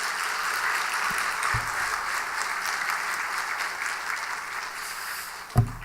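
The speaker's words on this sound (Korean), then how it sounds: "우리 감사의 박수 한번 하십시다" A church congregation at a Wednesday evening service applauding together, a sustained wash of clapping from a large room that holds steady and then tapers off, with one louder thump near the end.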